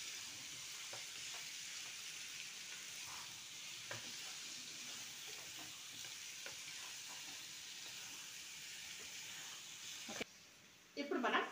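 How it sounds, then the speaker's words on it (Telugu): Chicken curry with sorrel leaves and coriander powder stirred in a pan, a faint, even sizzle with soft scraping strokes, ending in a short, louder burst of clatter. "ఇప్పుడు దీన్ని కూడా ఇప్పుడు బాగా నీట్గా కలుపుకోవాలి"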